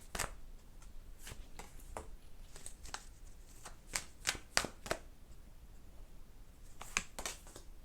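Tarot cards are shuffled and drawn up close, giving a series of sharp, separate snaps and flicks at irregular intervals, with a quick cluster in the middle and no talk.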